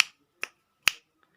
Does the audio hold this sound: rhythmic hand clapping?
yes